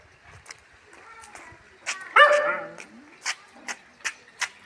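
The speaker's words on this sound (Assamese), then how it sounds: "ডগে কেনেকৈ মাতে ভোক ভোক ভোককৈ মাতে" One sharp, yelping dog bark rings out close by in the middle of the clip, surrounded by soft chatter and a few short vocal sounds.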